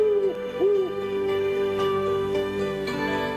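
An owl hoots at night in the woods, a steady sustained low tone with a couple of short wavering calls at the start, fairly loud and close over a faint background.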